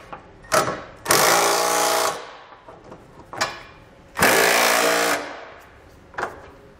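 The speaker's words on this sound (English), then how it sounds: "What we're going to do now is snug down the hardware on each side" Hitch mounting bolts on a 2017 Subaru Outback wagon being snugged down with a 19 mm socket on a power tool: two long loud whirring bursts, each flanked by short clicks and brief spins.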